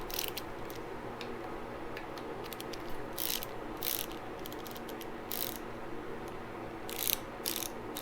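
Ratchet wrench loosening the handlebar clamp bolts on a 2019 Harley-Davidson Iron 1200 Sportster: bursts of quick, close clicking that come in short, irregular runs over a faint background hum.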